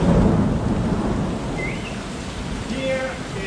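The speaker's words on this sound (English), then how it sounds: "it's raining very hard since 2 days" Heavy rain pours outside after two days of downpour, with a deep rumble of thunder rolling through. The rain gives a dense, continuous roar that swells loud at the start, eases slightly, then builds again.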